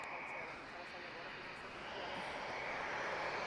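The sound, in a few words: TAP Airbus A321neo approaching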